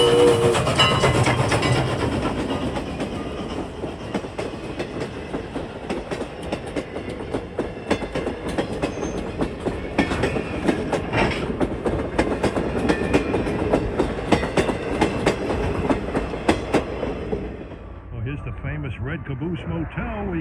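Train rolling past on the Strasburg Railroad, a loud continuous rumble with rhythmic wheel clatter on the rails for most of the stretch, fading to a quieter tail near the end.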